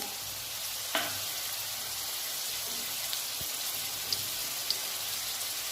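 Ground spices sizzle in hot oil in a pan, a steady, close crackling hiss broken by a few soft clinks and taps of a spoon; no one speaks.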